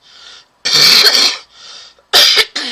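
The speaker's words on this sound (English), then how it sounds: "So sorry for the cough." Someone coughs several times in quick harsh bursts, close and loud, with a softer breath or throat sound between them.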